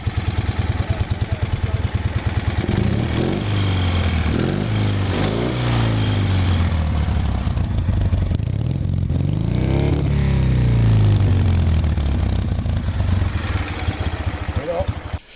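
A classic motorcycle engine idles loudly at close range and is revved several times, the pitch rising and falling in swells over a steady throbbing idle.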